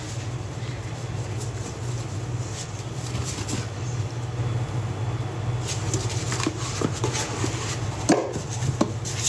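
Compressed laundry powder bombs crumble and crunch close up over a steady low hum, with crisp crushing bursts growing denser and sharper in the latter half.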